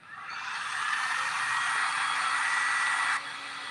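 A handheld dryer blows a steady airy whoosh over a craft project, a snowman piece, rising quickly at the start, holding loud and close for about three seconds, then cutting off abruptly, with no voices.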